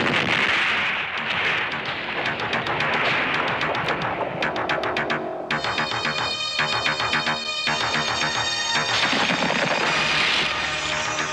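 Rapid bursts of gunfire and artillery booms in a robot war movie trailer, dense and loud throughout, mixed with ringing metallic tones and pulsing effects in the second half.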